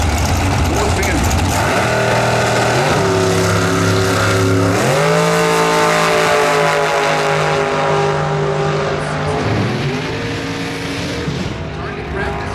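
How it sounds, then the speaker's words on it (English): A drag racing car roars down the track at the NHRA Sonoma Nationals, a loud engine pulling through gear changes with rising and falling pitch, under a commentator's talk. "the first car down the track is going to be Logan Ward"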